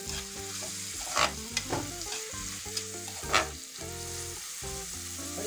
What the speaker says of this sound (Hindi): शिमला मिर्च डाल देंगे, इसको चला देते हैं।